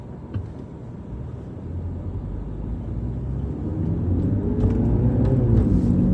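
A car pulls away hard on the road, its engine note rising in a steady building rumble and whir, close and fairly loud with no talk.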